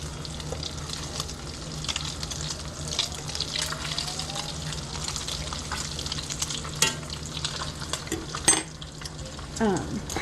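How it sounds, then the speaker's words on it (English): Bacon and scrambled eggs fry in a pan for a homestyle country breakfast, giving a steady close sizzle with occasional utensil scrapes and clinks against the pan. "And my eggs are scrambling. Well, let me flip my bacon real quick."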